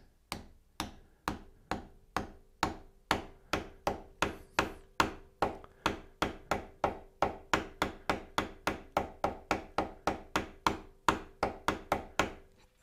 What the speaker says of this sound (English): I'm going to use my other trusty mallet to pound it in